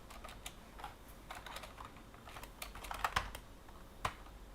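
Typing on a computer keyboard, a quiet irregular patter of key presses with a few sharper, louder clacks, heard close and alone without speech.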